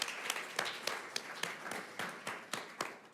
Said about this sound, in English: So let's clap for him one more time.